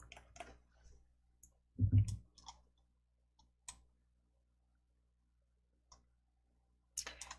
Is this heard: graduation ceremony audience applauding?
no